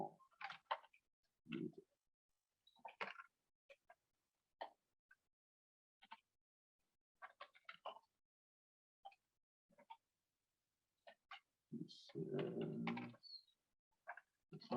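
Scattered keystrokes on a computer keyboard, quiet irregular clicks and short bursts of typing with pauses between, close up, ending in a denser clatter.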